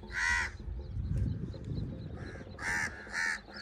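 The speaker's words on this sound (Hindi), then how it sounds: "कवे भी आ गए हैं अभी कवों को भी रोटी डालते हैं तो जैसे जिस परिंदे को भी डालते हैं तो ये शोर मचाना शुरू कर देते हैं" Several crows caw loudly in short bursts near a mud house, two calls at the start and three more toward the end, with soft rustling and low background noise between them.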